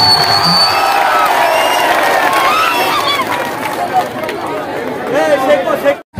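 A crowd at a local football tournament prize ceremony chatters and cheers, with scattered whoops and a rising bustle of voices that fills the space, close and loud throughout.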